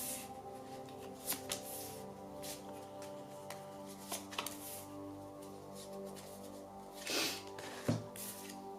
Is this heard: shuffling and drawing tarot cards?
yes